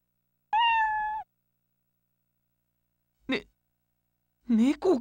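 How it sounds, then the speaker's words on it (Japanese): A cat meows in the PS2 dating game Amagami: one drawn-out, tonal meow near the start, then after a pause a short burst of game voice and further voiced sounds. "ね、猫かよ"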